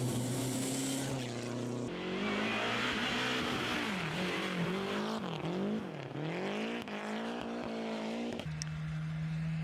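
A Lancia Scorpion sports car, a European model of about 118 horsepower, drives past with its engine revving and surging up and down in pitch. It stays loud and steady, easing to a smoother idle-like hum at the end.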